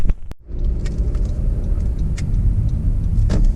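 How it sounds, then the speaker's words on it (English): Steady road traffic on Woodward in downtown Detroit, a continuous low rumble of car engines and tires heard from inside a vehicle, with a few faint ticks over the drone. "there's a lot of cars coming from the other end of Woodward"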